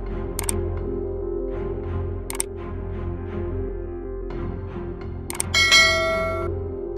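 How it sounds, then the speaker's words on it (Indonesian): Notification bell chime effect: a few bright, quick metallic dings spaced across a soft sustained tone, ending in a louder shimmering ring that decays away. "lonceng notifikasinya."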